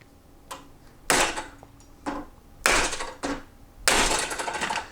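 A screwdriver driving a pivot bearing sleeve out, with several sharp metallic taps and knocks at irregular intervals, close and distinct.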